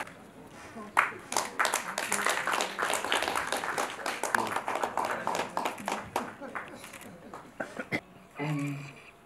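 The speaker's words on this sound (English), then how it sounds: "please, another round of applause for our great speakers" An audience at a memorial lecture gives the speakers another round of applause, uneven clapping that swells and thins, with talk mixed in and a voice heard near the end.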